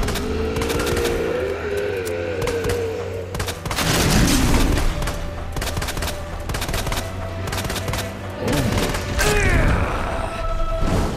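Loud bursts of gunfire and heavy booming blasts in the video game Resident Evil 2, rapid shots clustered in volleys with deep thuds and mechanical clatter between them.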